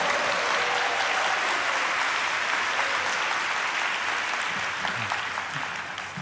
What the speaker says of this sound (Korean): 우리 큰 합성과 박수로 목사님 모시도록 하겠습니다.